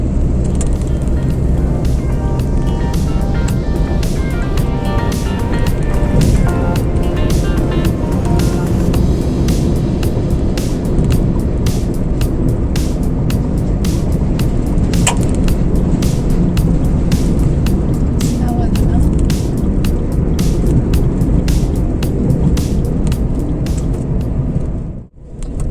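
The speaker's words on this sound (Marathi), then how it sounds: "इथे बघा ट्रँकरचं ट्रॅफिक बघा." Loud, steady roar of heavy highway traffic with tanker trucks on the Mumbai–Goa highway near Palaspe Phata, a continuous rumble with passing vehicles and no talking.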